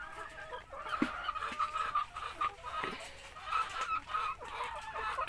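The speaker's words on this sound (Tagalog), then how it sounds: "kanyang mga paitlog na manok" Laying hens cluck close by on a farm in short, uneven bursts, several birds chattering over one another with brief pauses between calls.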